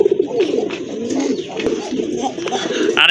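A pair of pigeons, a female and a male, coo in low, throaty, repeated rolls close by, with a faint bird chirp and brief clicks in the background.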